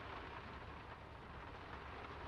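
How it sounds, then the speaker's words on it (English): Steady rain in the game Draugen keeps up a dense, even hiss with a low rumble underneath, constant and close throughout, with no voices. "It's getting late, and the rain's not abating."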